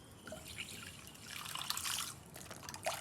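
Milk poured from a 200-gram bag into a clean basin already holding 60 grams of white sugar, a soft close trickling and splashing stream that swells slightly midway, with no talk.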